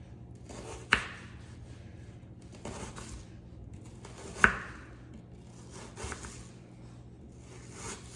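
Knife cutting through onion on a cutting board while making mango salsa, giving a few sharp isolated chops spaced a few seconds apart, close and fairly quiet.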